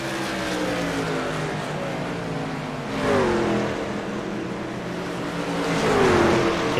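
Race cars run on a track, a loud continuous engine drone with two rising revving surges as cars pass close, no talk over it.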